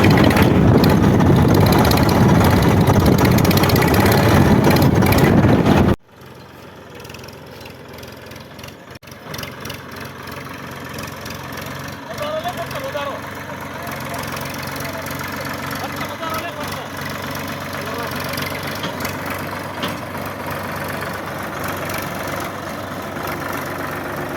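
A tractor engine runs in a forest during the monsoon, heard from people riding on its bonnet: a loud, rough burst first, then a steady mid-level idle rumble that carries on throughout.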